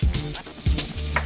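Garlic butter melting and sizzling in a pan for a Cajun red sauce, a short burst of hissing and crackle with low, uneven bubbling pulses, close and fairly quiet.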